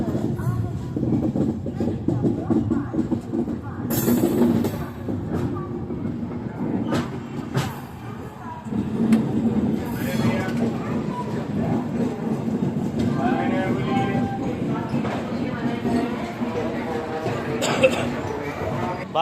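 Kamayani Express rolls into Itarsi Junction station with a steady low rumble and metallic clatter, occasional squeals and bangs from the carriages, while voices talk over the noise throughout.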